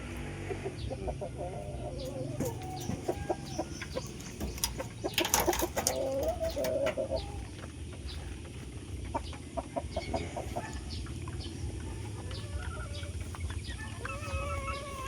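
Game fowl chickens in a backyard pen cluck and call intermittently at moderate distance, with a busy burst of bird calls midway over steady farmyard background noise.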